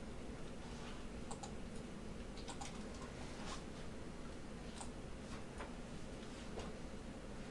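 Someone typing on a keyboard during a class session, faint scattered key clicks in irregular bursts, distant and low under a steady background hiss.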